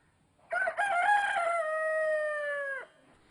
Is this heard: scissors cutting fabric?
no